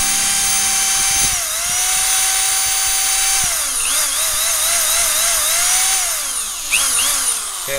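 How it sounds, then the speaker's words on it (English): A power drill with a cobalt steel bit bores out a stubborn through bolt on a pool pump electric motor. It gives a continuous high-pitched whine with shifting pitch and grinding as the bit bites, loud and close. "I'm gonna take my drill. I'm using a cobalt steel drill bit, which will drill through nice and fast."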